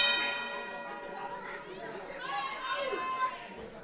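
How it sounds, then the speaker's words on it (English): A wrestling ring bell clangs with a bright ringing tone that decays slowly, heard over crowd chatter and commentary at a live wrestling show. "Well, there's the bell"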